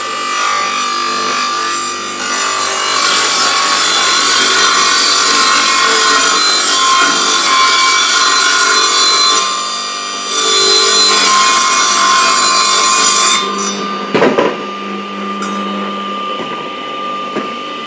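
A Mollar TS600 8-inch table saw rips through 18 mm meranti plywood, a loud continuous whining cut under the motor's drone, briefly dipping midway, then ending as the blade spins down with a few clunks.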